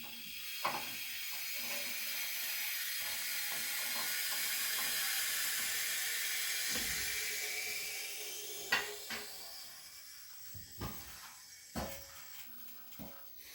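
A Quickjack BL-7000slx portable car lift lowers with a long, soft hiss that swells and fades, followed by a few sharp clunks and clicks as it settles.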